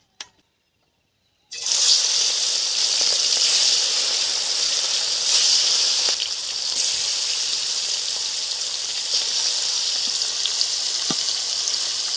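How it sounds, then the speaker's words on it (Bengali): Pieces of kalibaus fish, rubbed with salt, turmeric and chilli powder, fry in a pan with a loud, steady sizzle. It starts abruptly after a short silence and keeps hissing evenly, with occasional faint pops. "মাছ ভাজা বসিয়ে দিয়েছি"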